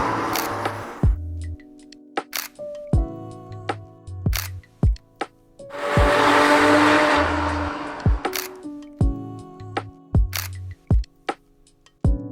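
Race car engines idle and rumble around the Richmond Raceway oval in steady, tonal swells with one louder surge in the middle, while sharp camera shutter clicks snap repeatedly close by.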